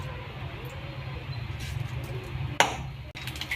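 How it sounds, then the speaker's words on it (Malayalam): Mustard seeds popping in hot oil in a pan on the stove as a rasam is started: a soft, steady background hum, then one sharp, close pop and a fainter second crack shortly after. "കടുക് പൊട്ടിട്ടോ."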